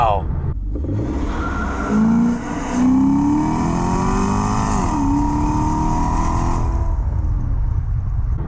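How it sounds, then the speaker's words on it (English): A supercharged car engine accelerates hard from a launch, its pitch sweeping upward through the gears over a steady roar, with a brief dip at a shift before climbing again, loud and close. "I love the sound of the engine, first of all."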